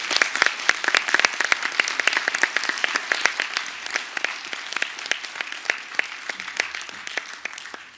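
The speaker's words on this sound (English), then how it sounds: "Please give them all a round of applause." An audience at a District 33 candidate debate claps for the candidates in sustained, dense applause that fades slightly toward the end.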